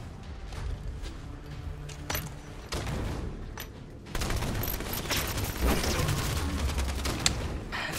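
Rapid automatic gunfire and bursts from Halo 5 Beta multiplayer on the Truth map, dense fusillades with a booming low end that grows heavier halfway through, loud and continuous.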